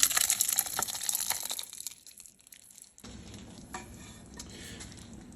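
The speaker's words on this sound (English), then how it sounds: "Now I'm going to transfer this back into the saucepan, hopefully without spilling it" Sauce poured from a pan back into a saucepan on a stovetop, with a sizzling, stirring clatter that fades out, then a low steady hiss of cooking.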